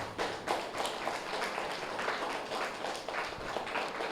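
Group of people clapping loudly together after a guided meditation session, a dense patter of many hands at moderate distance, with brief voices mixed in.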